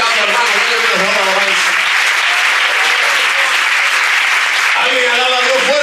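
A church congregation applauds steadily through a youth-week Sunday school service, a dense, continuous clapping with voices and some tonal sound mixed in beneath it.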